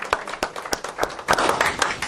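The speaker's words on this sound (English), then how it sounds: "give her a round of applause for doing a great job there" A small group claps for a participant at a business coaching seminar, with a handful of distinct, uneven hand claps that thicken into brief scattered applause, moderately close.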